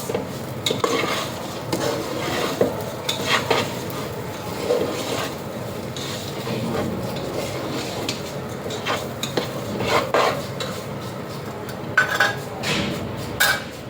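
Bay leaves, cinnamon and five cardamom pods drop into hot fat in a pot for white pulao. A steady, close hiss of frying runs under continual stirring and light utensil knocks against the pot.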